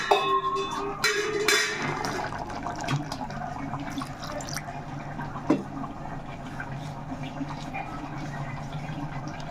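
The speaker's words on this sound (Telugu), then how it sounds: "దీంట్లో కొంచెం వాటర్ వేసుకుందాం" Water is poured into masala in a cooking pan, a watery splash and trickle strongest at the start, then a quieter bubbling fill with a sharp clink midway.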